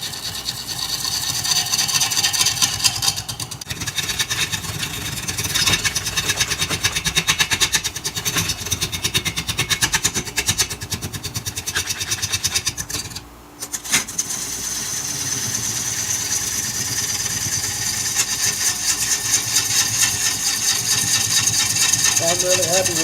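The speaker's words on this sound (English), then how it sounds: "I'm still getting a lot of bounce with my bowl gouge." A bowl gouge cutting a mesquite pedestal vessel spinning on a wood lathe, giving a continuous close, gritty scraping rasp with a steady whirring hum and one brief pause partway through.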